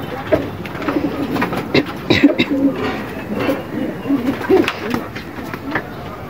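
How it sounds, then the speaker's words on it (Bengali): Racing pigeons coo in a loft, a short, strong bird among them, with repeated low throaty coos in uneven bursts over soft background rustle and faint voices. "শর্টফোটে এবং শক্তিশালী একটা কবুতর।"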